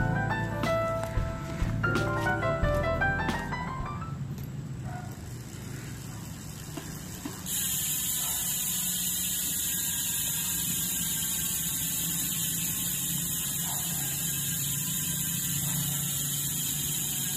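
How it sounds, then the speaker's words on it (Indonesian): A Strummer HR10 bicycle freehub with 4 pawls buzzes as a fast, continuous ratchet clicking that sets in partway through and holds steady and near, following some quieter mechanical noise at the start. "Nah, ini suara dari Strummer HR10 teman-teman."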